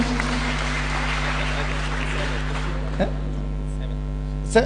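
A church congregation applauds in a Nairobi church, with scattered clapping spread over a loud electrical hum, a voice briefly audible, fading toward the end.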